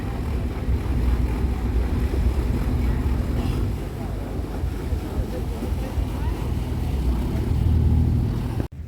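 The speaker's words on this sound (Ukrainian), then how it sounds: "Наш паром, який їде на Десензано." Ferry crossing Lake Garda toward Desenzano, heard as a steady low engine rumble with water wash and strong wind buffeting the microphone, continuous and fairly loud throughout.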